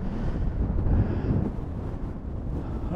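Strong wind buffets the microphone on a rocky hilltop in Glen Coe, Scotland, as a continuous loud, low roar with gusts swelling and easing and no talk.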